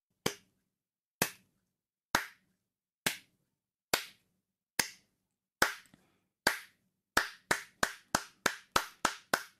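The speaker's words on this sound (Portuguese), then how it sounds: "Estamos a fazer um minuto de silêncio e tu começas a bater palmas" Sharp, isolated hand claps ring out in a quiet room during a minute of silence, at first slow and evenly spaced, then quickening into a rapid run of claps near the end, close and crisp.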